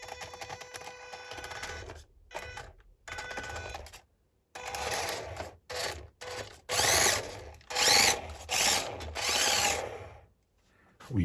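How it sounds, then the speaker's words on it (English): A small RC Mazda Miata MX5 car driving on a desktop, its electric motor whining in short bursts that start and stop with brief silences between runs, close and fairly loud. "we'll try and drive it on the desktop a bit,"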